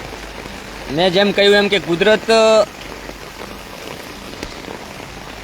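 Steady rain hisses throughout during a heavy downpour in Banaskantha, while someone talks briefly over it near the start.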